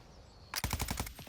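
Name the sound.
gunfire in video game Warzone 2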